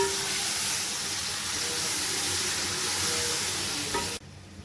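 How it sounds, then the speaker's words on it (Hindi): Ground garlic and ginger paste sizzling and frying in a pan for Punjabi karhi pakora, a steady close hiss with faint stirring that drops suddenly near the end. "अब इसमें मैंने लहसुन अदरक डाल के अब इसको मैं अच्छी तरह भूनने लगी हूँ"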